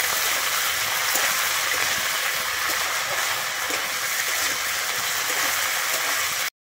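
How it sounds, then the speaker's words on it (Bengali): Potatoes frying in mustard oil in a pan, a steady, dense crackling hiss that runs without a break at close range until it cuts off at the end. "আমি প্রথমে আলুগুলোকে ভেজে নেবো। আমি আলুটাকে কিন্তু লাল করে ভেজে নেবো।"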